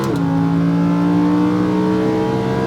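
Lamborghini Huracán on a race track in Las Vegas, engine holding a steady, loud harmonic drone with rising pitch through a continuous acceleration pull, no talking.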